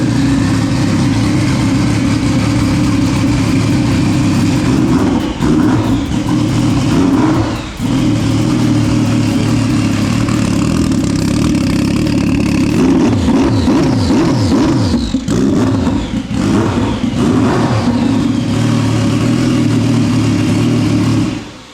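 A turbocharged Stage 1+ Sea-Doo 325 jet ski engine idles and revs repeatedly, its loud, steady drone rising and falling through several spool-ups, with no talking.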